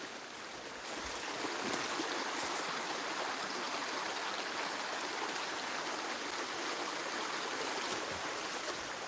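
A river at a farm in the Philippines rushes steadily nearby with a loud, unbroken hiss of flowing water and no voices.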